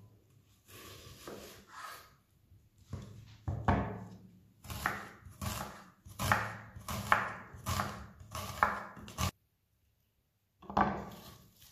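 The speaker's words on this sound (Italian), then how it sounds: "Inizio a tagliare la cipolla." A knife chops an onion on a cutting board in a home kitchen, with quick, crisp strokes in repeated bursts, a short pause near the end, then more chopping. No one speaks.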